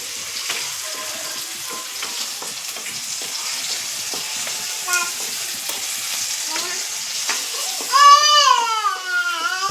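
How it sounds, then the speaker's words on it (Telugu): Puffed rice being stirred in a pan for upma, with a continuous scraping, sizzling rustle close by and a voice briefly rising near the end. "బరుగులు కలుపుతున్నాను"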